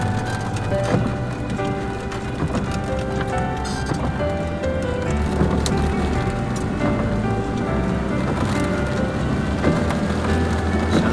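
Heavy rain patters densely on a surface throughout, on a road in Abha, Saudi Arabia, with occasional heavier drips and knocks and no talking.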